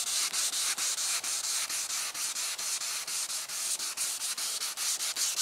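A Harbor Freight rotary polisher buffs car paint to remove orange peel, giving a loud, steady abrasive whir with a quick regular pulsing rhythm, close and alone without talk.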